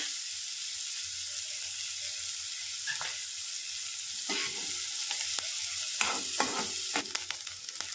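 Onion and vegetables frying in a pan for a quick rice-based bhaji, a steady close sizzle broken by a run of stirring scrapes and spoon knocks that grow busier toward the end, no voices.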